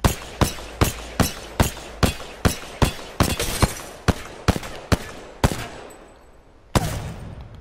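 CAR submachine gun in Apex Legends firing a long run of evenly spaced loud, close single shots that grows quicker midway, then pauses and ends with one last shot.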